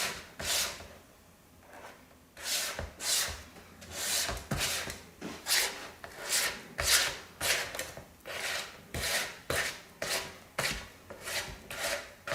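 Mixing cookie dough for white chocolate chip oatmeal cranberry cookies, with a spatula scraping around the bowl in repeated rhythmic rasping strokes, close and steady, with no talk over it.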